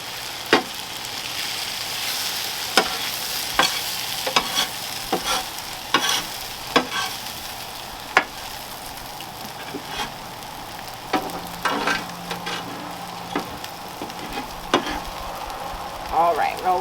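Cheese is folded into food on a hibachi griddle with steady sizzling frying beneath sharp spatula taps and scrapes against the metal, close and fairly loud, with only faint voices in places.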